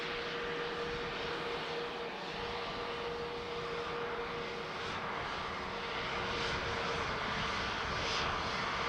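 A Ryanair airliner landing on runway 28 left at Dublin Airport produces a continuous, moderately distant engine roar with a faint steady whine, swelling slightly toward the end.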